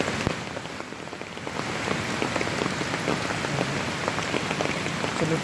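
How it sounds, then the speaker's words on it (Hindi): Heavy, continuous rain near a waterfall in Nainital, a dense steady hiss of drops pattering on surfaces close by, with no voices. "बरसात काफ़ी हो रही है, 2 दिन से लगातार बारिश हो रही है"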